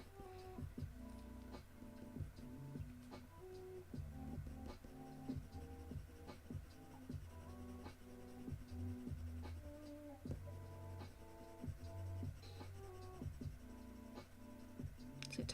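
Pencil drawing a spaniel commission on paper: steady scratchy strokes and light taps with a rhythmic tick-like pattern, close and fairly quiet, with soft background music and no talking.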